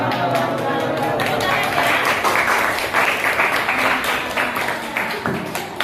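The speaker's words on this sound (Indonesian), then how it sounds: "Tepuk tangan untuk kelompok Kompas." Classroom audience clapping for a student group, a dense, even patter of hands held steady for several seconds and thinning slightly toward the end, with a voice speaking over it.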